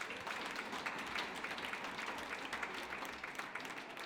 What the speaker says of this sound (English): A round of applause, please, for our sponsors.